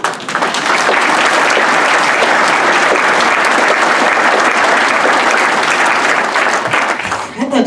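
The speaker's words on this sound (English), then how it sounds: "please give yourselves the real round of applause." Loud, close audience applause with many hands clapping densely, holding steady for about seven seconds before tapering off at the end.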